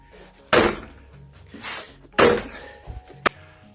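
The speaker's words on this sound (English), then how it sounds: "So heavy club hammer" A heavy club hammer striking hard, two loud, sharp blows about a second and a half apart with ringing tails, followed by a few lighter knocks and a final sharp tap.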